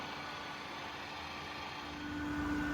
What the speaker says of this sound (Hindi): Even at such a high speed of 500 rpm, there is no major noise in the gearbox of this machine